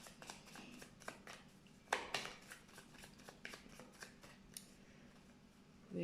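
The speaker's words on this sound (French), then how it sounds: "On va tirer plus de cartes pour savoir." Tarot cards shuffled and drawn for a love reading, heard as a steady run of soft, close, crisp card flicks and slides with a sharper burst of riffling near the middle, no voices.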